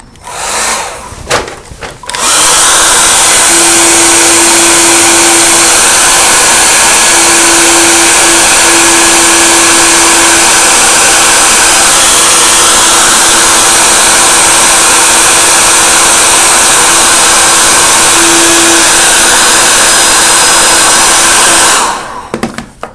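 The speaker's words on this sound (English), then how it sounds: "and then melt it with a hairdryer." A hair dryer blows steadily and loudly for about twenty seconds with a constant whine, melting a beeswax finish on a carved ornamental leaf mirror, starting and stopping abruptly.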